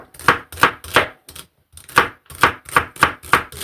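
A knife chops celery on a cutting board in about nine loud, crisp, evenly spaced cuts, with a short pause partway through.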